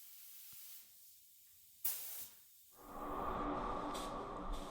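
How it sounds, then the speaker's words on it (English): A Porphis PRD 815 spray gun lays base coat at about 24 PSI: after a brief hiss and a pause, a steady broad spray hiss starts and runs continuously, fairly quiet. "spraying the base at about 24 PSI and laying down my first coat of base"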